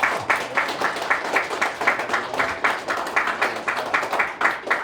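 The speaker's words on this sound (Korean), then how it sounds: "뜨거운 박수로 환영해 주시면 감사하겠습니다" A hall audience at a political lecture forum in Seoul gives steady applause to welcome a speaker, many hands clapping in a loose, continuous rhythm at moderate loudness with no talk over it.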